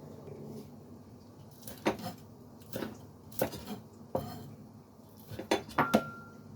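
A knife cutting tofu on a board, a series of about eight quiet, distinct taps and knocks spaced irregularly, close by against a faint room background.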